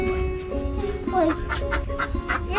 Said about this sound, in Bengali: এর ভিতরে হাঁস আছে, হাঁস।